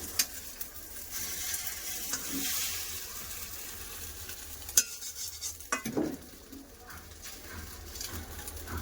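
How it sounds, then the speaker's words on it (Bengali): Soft, steady sizzling of an egg frying in a pan, with occasional clicks and scrapes of a utensil. "দুই পাশ খুব ভালো করে ভেজে নেব"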